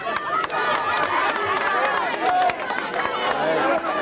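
Crowd cheering and chattering at a women's spaghetti eating contest at a village festival, a dense, lively babble of shouts and calls rising and falling with no pause.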